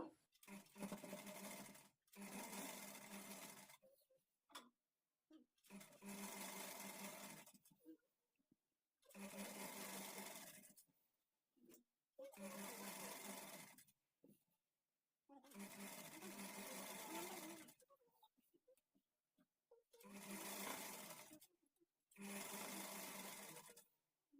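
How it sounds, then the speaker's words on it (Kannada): A sewing machine stitches the fall onto a saree's edge in repeated bursts of steady running, several runs broken by short pauses, close and loud. "ಈಗ ಇಲ್ಲಿಂದ ನಾನು ಎಡ್ಜ್ಗೆ ಸ್ಟಿಚ್ ಮಾಡ್ಕೊಳ್ತಾ ಬರ್ತೀನಿ"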